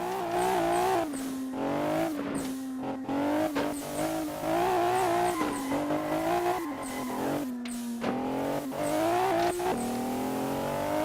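A modified Renault Clio in the Assetto Corsa racing game driving off-road across grass, its engine droning loudly and rising and falling in pitch with repeated revving and gear changes, with brief tire squeals and thumps, no talking.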